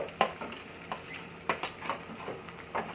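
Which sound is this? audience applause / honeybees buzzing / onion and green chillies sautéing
onion and green chillies sautéing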